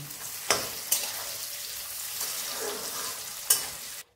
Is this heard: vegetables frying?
yes